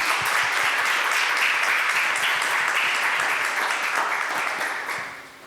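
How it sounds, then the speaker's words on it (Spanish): Audience applause for the presenters at a children's television and film seminar, steady dense clapping close by that holds for several seconds before fading out. "Y un aplauso, por favor,"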